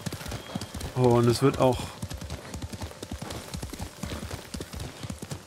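Horse hooves clip-clop steadily during a ride in the video game Ghost of Tsushima, a rhythmic trot running under a voice that talks over the first part.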